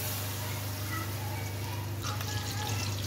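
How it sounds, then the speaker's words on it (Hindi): Cooking oil is poured into a pot for Lahori white chickpeas, a close, continuous liquid trickle and splash lasting a few seconds over a steady background hum. "ये डालते हैं ऑयल।"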